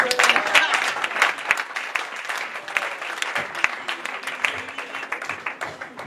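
A church congregation at a Sunday service breaks into loud sustained applause, dense close clapping that gradually tapers, with voices mixed in.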